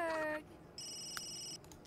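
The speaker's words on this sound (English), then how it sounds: "His phone's ringing." Phone ringing in The Sims 3 video game: a brief electronic tone followed by a steady, close ring burst, with no talk over it.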